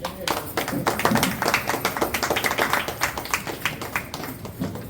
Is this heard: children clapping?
yes